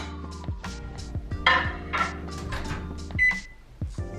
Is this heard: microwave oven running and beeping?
yes